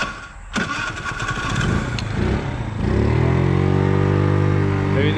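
A carbureted motorcycle engine cranks and catches, then settles into a steady, loud, close idle that runs a little low, rough at first before evening out.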